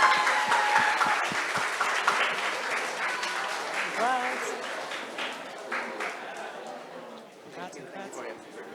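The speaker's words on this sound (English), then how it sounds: "Give yourself a round of applause." An audience applauds itself at the SIMPIC 2025 semi-final round: brisk, close clapping with scattered cheers and voices, loud at first and gradually thinning as the applause settles.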